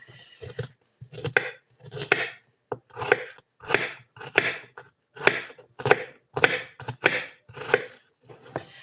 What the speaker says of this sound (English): I'm going to cut it up and mix it with the meat